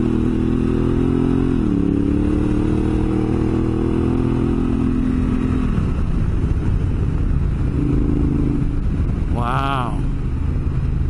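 Honda Africa Twin DCT motorcycle engine droning loudly up close, with the pitch dropping in two quick steps as it downshifts two gears, wind rush throughout and a brief exclamation from the rider.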